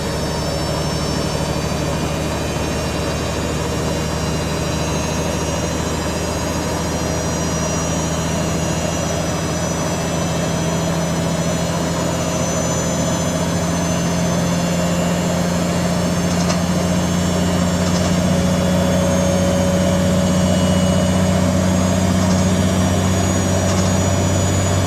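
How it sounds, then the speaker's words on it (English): Siemens IQ300 WD14H320GB/02 washer dryer on a cottons 60ºC cycle, its motor rumbling from worn bearings: a steady, loud, low droning hum with faint high whine, continuous throughout and without talk. "rumbling, I think the motor bearings need oiling"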